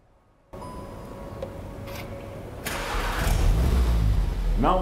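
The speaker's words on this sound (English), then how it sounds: "Sasha, do the honors and start the Golf R for us." A Volkswagen Golf R engine cranks and catches after a short silence, then settles into a steady idle that grows louder with a slight rev.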